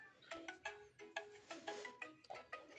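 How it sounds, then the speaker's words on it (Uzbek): An old mobile phone rings with a faint, rapid melodic electronic tone, repeating short bursts in quick succession, heard alone. "Shu payt mana ham jiringlab qoldi eski telefonimiz."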